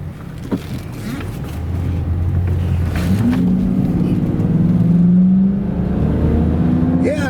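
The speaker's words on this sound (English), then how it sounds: "we'll just go on a quick drive" A Lincoln Mark VII LSC, a Mustang-based luxury car, accelerates on a drive with its engine note rising and building steadily in pitch up close. It stays loud throughout, with faint talk early on.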